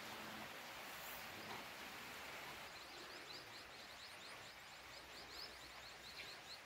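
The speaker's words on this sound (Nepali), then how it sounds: "पानी पर्नु थाल्यो।" Rain falls over foggy Kalimpong as a faint, steady wash of hiss with no distinct drops standing out, continuous and far-off throughout, and no one speaking.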